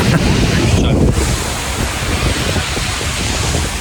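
Ocean surf rolling in on a beach, a steady loud wash of breaking waves with heavy wind buffeting the microphone throughout.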